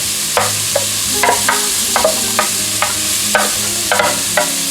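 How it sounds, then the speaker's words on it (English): Chopped onion and celery sautéing in a pot for venison stew, a loud steady sizzle punctuated by regular scraping strokes of a spoon stirring, close up. "putting it in here and sauteing it until it becomes translucent"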